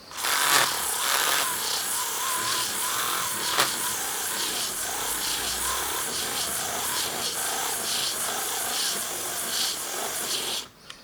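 Slot car tyres being sanded by hand with sandpaper produce a steady, close, rasping hiss that runs almost without a break for about ten seconds before stopping.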